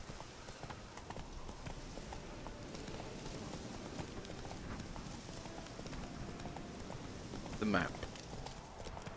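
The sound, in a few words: horse hooves clopping in video game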